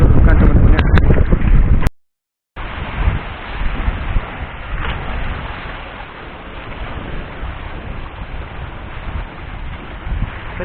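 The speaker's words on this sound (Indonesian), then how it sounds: "Anginnya kenceng." Strong wind buffets the microphone on a small fishing boat out at sea, a loud, continuous roar and rumble after a short burst of nearby voices and a brief cut.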